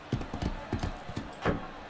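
Horse hooves clip-clop in the Motion Sports video game, a rhythmic series of close, moderately loud hoof beats with a few heavier accented steps near the end.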